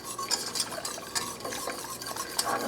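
Whisk stirring coconut sugar into a sauce in a pan, quick repeated metallic scraping and clinking strokes, close and busy with a light sizzle underneath.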